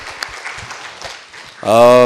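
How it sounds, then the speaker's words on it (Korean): A church congregation applauds during a Friday night service, a faint, scattered clatter of hands that gives way to a loud, sustained voice near the end. "Теперь все, поаплодируем."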